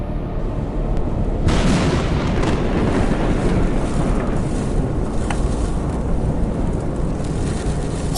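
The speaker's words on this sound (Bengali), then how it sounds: "হঠাৎ এক ঝটকায় তীব্র বাতাস বইতে শুরু করলো, ধুলোবালির ঝড়।" A Kalbaishakhi storm at night sweeps in with strong, dusty gusts and thunder: a loud, dense, continuous roar that swells sharply after the first second and then rumbles steadily on, with no voices.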